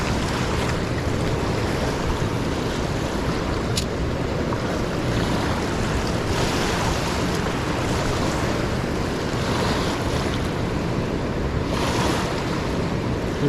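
A raging river rushes past, loud and close. Its broadband roar of churning water runs unbroken, with gusts of wind buffeting the microphone.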